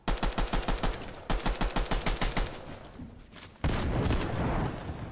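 Fortnite gunfire arrives as two loud, evenly spaced runs of rapid automatic shots, then a brief lull and a dense, roaring blast of sustained fire.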